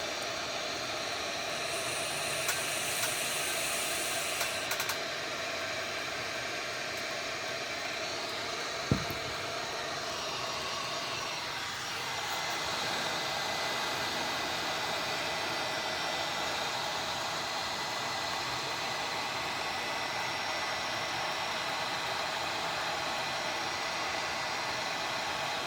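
A heat gun blowing steadily on a warped plastic playfield piece from a 1981 Stern Lightning pinball machine, a constant airy whoosh with a brief click partway through, close and even.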